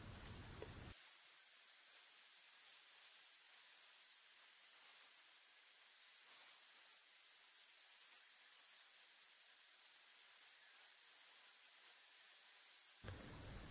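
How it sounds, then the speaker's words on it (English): A DIY CNC router cuts a wooden fridge magnet at 5 mm depth per pass and 300 mm per minute, giving off a steady high spindle whine and a constant airy hiss that run unbroken throughout. "It is cutting at a depth of 5mm per pass, and it is moving at a speed of 300mm per minute."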